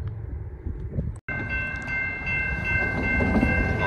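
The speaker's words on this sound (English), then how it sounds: "Oh, we got a train coming right now, too. Eastbound train coming from that direction over there." An eastbound Norfolk Southern train nears a five-track railroad crossing, with a steady rumble of rolling cars and a sustained horn-like tone over it after a brief cut, growing slightly louder toward the end.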